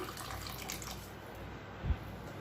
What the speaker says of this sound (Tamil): அதாவது அரிசி ஊற வச்ச தண்ணியே சேர்க்குறேன்